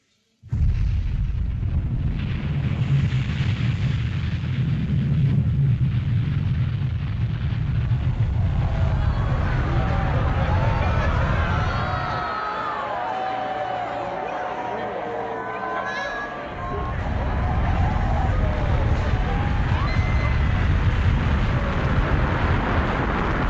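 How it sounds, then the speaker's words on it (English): Long March carrier rocket lifting off with the Chang'e 5 lunar probe, a loud sustained roaring rumble that fills the whole stretch, briefly thinning midway before surging again, with a voice heard over it. "Ignition. Lift off."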